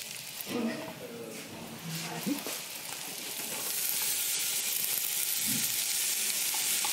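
Red onions sweating in a pan for a spiced pumpkin-apple vegetable dish: a steady, close sizzle that swells and brightens after the first few seconds. A voice speaks briefly at the start.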